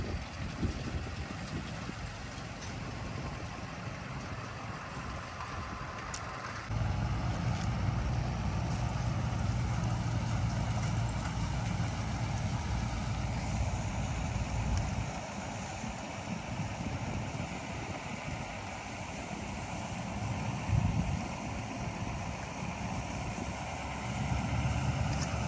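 A turbocharged 6.5 liter engine in an old rusty farm truck runs steadily, a low continuous idle rumble that grows louder partway through and holds, fairly close, with no talk.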